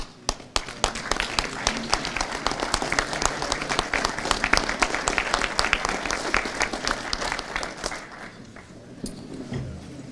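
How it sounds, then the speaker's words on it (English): Standing ovation from boys for their mothers at a high school football banquet, dense loud clapping with sharp individual claps at the start, sustained then thinning toward the end. "Boys, let's stand up and give your moms a round of applause."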